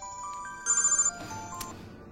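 A phone's electronic ringtone chimes nearby in a short tonal burst, with a louder trilling stretch partway through and a quieter room behind it.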